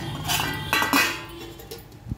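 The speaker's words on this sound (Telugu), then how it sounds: "మూత పెట్టేద్దాం." A lid goes onto a cooking pot of banana flower and moong dal tempering with a few close metallic clinks and clanks, and then the sound fades to quiet.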